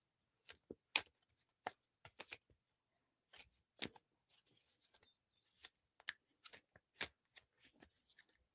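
Playing cards shuffled and handled during a quiet reiki and meditation session, a sparse series of crisp riffles and snaps at irregular intervals, close and faint against near silence.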